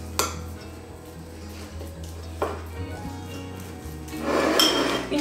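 A utensil stirring and scraping a tuna filling with mustard, soy sauce and pepper in a dish, steady clinking and rubbing with a couple of sharper knocks and a louder scrape at the end, no talking.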